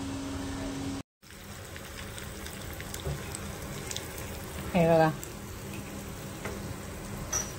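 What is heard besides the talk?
mustard seeds and asafoetida tempering sizzling in hot oil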